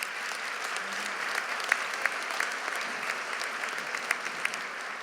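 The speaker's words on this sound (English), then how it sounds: "Can we give them a round of applause?" Audience applause at a December graduation ceremony for Mid-State Technical College, a sustained wash of clapping with a few louder individual claps popping out near the front.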